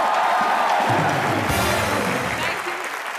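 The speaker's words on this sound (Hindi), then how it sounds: "एक बार जोरदार तालियां दीपिका पादुकोण के लिए" Loud applause from a comedy show studio audience greets Deepika Padukone, with cheering voices mixed into a dense, steady roar of clapping that carries on for several seconds.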